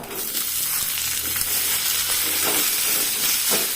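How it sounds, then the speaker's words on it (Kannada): A large chopped onion frying in a pan, giving a steady broadband sizzle that holds throughout at close range, with a few soft stirring knocks and no talking. "ಅದನ್ನು ಕೂಡ ಇದಕ್ಕೆ ಹಾಕಿ ಫ್ರೈ ಮಾಡುವ."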